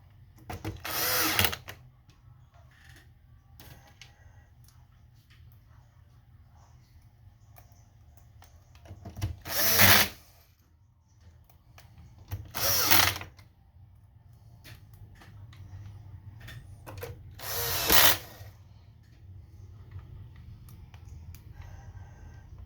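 A small electric screwdriver drives screws into an Xbox Series X console in four short, close whirring bursts spaced by long quiet gaps with faint handling sounds.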